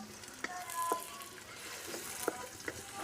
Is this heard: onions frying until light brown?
yes